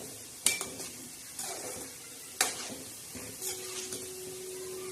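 Wheat flour modak sizzle softly as they fry in hot oil in a pan, with occasional sharp clinks and stirring scrapes of a utensil against the vessel, fairly quiet and close, with no voices.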